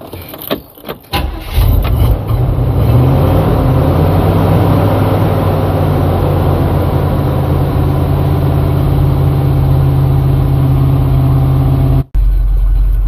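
An old car engine sputters to life, then settles into a steady, low rumbling idle that runs on loudly, with a brief cut near the end.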